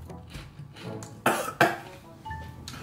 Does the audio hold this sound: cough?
yes